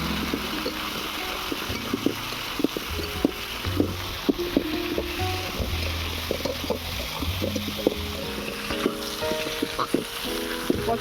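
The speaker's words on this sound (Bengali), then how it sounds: "এবারে পটলটাকে ভালো করে ভেজে নেব।" Pointed gourd pieces seasoned with salt and turmeric frying in hot oil, a continuous close sizzle with frequent light scraping and stirring taps of a spatula against the pan.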